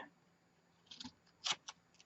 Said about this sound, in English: I'm just going to take my scissors, and I'm going to cut off about